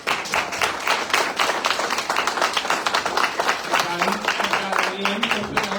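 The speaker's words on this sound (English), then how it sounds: "James Burton, round of applause, please." Audience applause at an awards event, dense steady clapping from a crowd that keeps going throughout, with a voice and some tonal sound coming in near the end.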